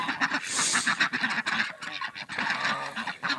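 Ducks and drakes quack repeatedly and close by in a busy, overlapping chorus on a farm in winter, with a few goose honking calls mixed in.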